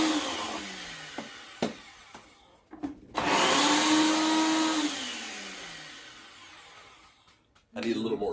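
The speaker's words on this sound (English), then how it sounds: "I'm going to grind it up, and we're going to add that to it too" An electric grinder whirs loudly for about two seconds while grinding spices for a keto tomato sauce, its motor pitch sagging as it winds down, with a few clicks and knocks before and another short burst at the end.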